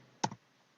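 Two quick, close clicks from a computer mouse, sharp and dry, in an otherwise quiet room.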